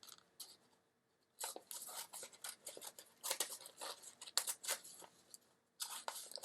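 Scissors snipping through paper while making a folded paper craft, a quiet run of crisp cuts and rustles in short bursts, close and faint, after a brief pause, with no talking.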